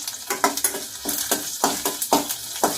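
A pinch of asafoetida hits hot oil for a spice tempering, giving a close sizzle punctuated by rhythmic stirring scrapes and light clinks of a utensil against the pan, about eight strokes.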